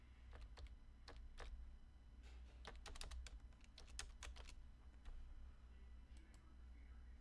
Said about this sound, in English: So I'm just typing in here.